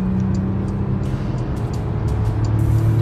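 A Porsche Macan Turbo accelerating to overtake on a motorway gives a loud, continuous rush of engine and road noise from inside the car, steady for the whole stretch, with no voices.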